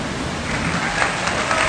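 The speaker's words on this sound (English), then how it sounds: "The rain's dumping." Heavy rain pours down steadily at night in a mountain setting, a dense, continuous hiss with scattered louder drops, close and fairly loud with no talk over it.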